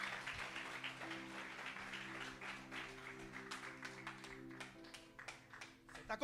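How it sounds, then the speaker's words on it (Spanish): A church congregation claps steadily through a sermon service, faint and sustained over held musical tones, with a few sharper claps near the end. "Aplauda el nombre del Señor."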